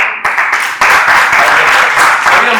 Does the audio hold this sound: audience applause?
yes